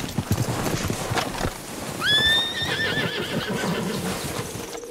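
Horse hooves clip-clopping in a rapid rhythm with a loud, high whinny in the middle, from a Western video game, close and clear with no talk.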